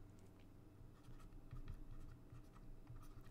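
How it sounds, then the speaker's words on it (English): A pen or marker writes wire labels onto a diagram during a college physics lecture on magnetic fields from currents, giving faint, close scratchy strokes over a low hum, with no talking. "I'll write wire 1 and 2 here"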